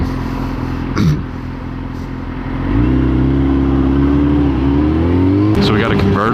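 A convertible Ford Mustang and an older Mustang drive by on a road, with a rumbling engine that swells midway into a louder, rising drone as the cars pass close, ending with a brief sharp burst of noise.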